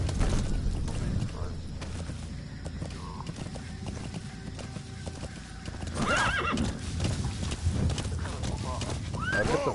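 In Metal Gear Solid V on PS4, a horse's hooves clip-clop steadily while it's ridden, with whinnies and neighs breaking through over game sounds and someone talking.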